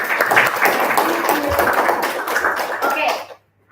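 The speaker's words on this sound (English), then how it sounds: "Everyone, give him applause." Small audience at a Toastmasters club meeting in a hotel clapping briskly and close for a few seconds, crisp hand claps with some chatter mixed in, stopping abruptly into silence.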